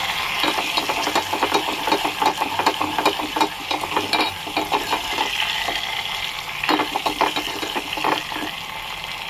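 Tempering spices with mint and curry leaves frying in hot oil in a pan, a steady crackling sizzle with repeated stirring scrapes close by, no talking.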